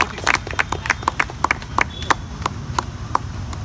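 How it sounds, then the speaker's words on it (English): A small audience claps after a speech at an evaluation session. The claps are sparse and distinct, forming a loose, uneven patter of individual hand claps over low background murmur. "Let's all give a big round of applause for the"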